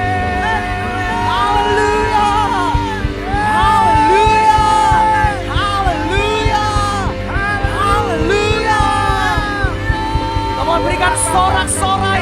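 A church congregation at a Sunday service cheers, whoops and shouts praise over loud worship music with sung melody, a continuous lively crowd roar at a steady level.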